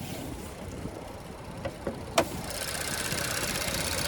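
A 2025 Hyundai Elantra N Line's 1.6-liter turbocharged four-cylinder idling outdoors in freezing weather: a steady, low, muffled hum under hissy wind noise, with a few light clicks and taps.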